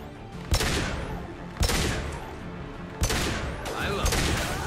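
Gunfire in the video game Mass Effect 2, with three loud, sharp bursts spaced about a second apart over a dense rumbling battle backdrop, followed by lingering noise and echoes.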